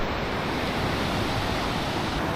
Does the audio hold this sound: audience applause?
no